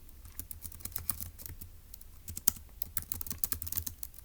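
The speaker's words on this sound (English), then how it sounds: "So let's type up that." Typing on a computer keyboard, a steady run of quick, light key clicks at close range with no voices.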